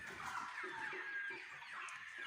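A flock of layer chickens on a poultry farm clucks and murmurs continuously, a busy chorus heard from a short distance with no talking.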